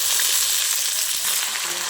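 Onion fries in oil in a pan with whole dried red chillies, cinnamon, cardamom, cumin seeds and bay leaves, giving a loud, steady, close sizzle with faint stirring and no talk.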